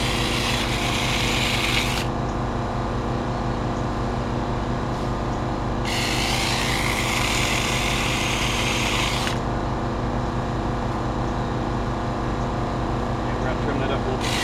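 A Taranzy one-handed chainsaw runs steadily with a constant motor whine, its pitch and grit rising in bursts as it cuts into thicker branches while being trimmed, with brief speech over it.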